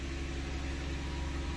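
A car engine idles a little high just after starting, a steady low hum with constant noise and no variation, heard close and alone.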